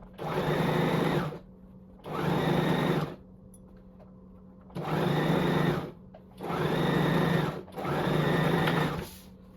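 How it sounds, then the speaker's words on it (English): A sewing machine stitches along an ironed fabric crease for a halter neck circle top, running in five bursts of about a second each, loud and close, with short pauses between them. "So I'm just sewing in that crease that was made with the iron."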